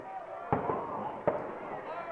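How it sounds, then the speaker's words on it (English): Two sharp booms from large firework mortars set off in the south end zone during a high school football game, spaced under a second apart over steady crowd and stadium noise. "Those are mortars. Those are giant mortars being blown up."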